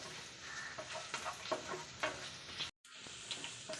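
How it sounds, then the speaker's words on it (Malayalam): Dried red chillies fry in a pan with onions, a soft, quiet sizzle marked by light, irregular stirring scrapes, with a short break near the end. "വറ്റൽമുളകും ചേർത്തതിന് ശേഷം നല്ലതുപോലെ മിക്സ് ചെയ്ത് കൊടുക്കുക"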